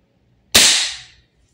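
A single sharp crack from a Redmantoys BCM MCMR MK2 14.5 airsoft gas blowback rifle firing once, close and loud, with a quick hissing tail that fades within about half a second in an otherwise quiet room.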